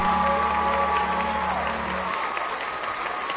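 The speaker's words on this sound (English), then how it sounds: "a big Earthkeeper round of applause for Adrienne Goff." A crowd claps steadily in a room, sustained applause that continues throughout with a faint tone fading out midway.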